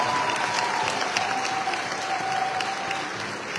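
An audience applauds after a national ballet performance at a gathering of the Congolese diaspora in Belgium, loud, dense and sustained clapping that eases slightly toward the end, with no talking.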